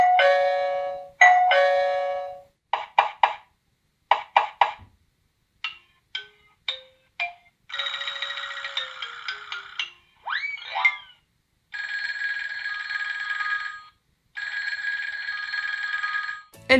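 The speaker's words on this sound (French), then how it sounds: "Elle va pouvoir sonner, alors il y a plusieurs, pareil là encore, plusieurs sonnettes qui sont intégrées." A Xiaomi Gateway smart hub plays through a series of its built-in doorbell ringtones, one after another: bright electronic chimes and ding-dong tones, then trilling and sustained ringing patterns, all loud and close with short silences between them.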